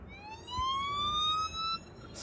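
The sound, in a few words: ambulance siren sound effect in a song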